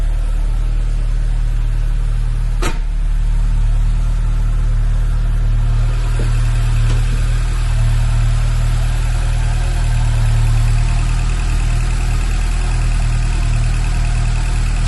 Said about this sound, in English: It's cold, it's running a little bit higher idle.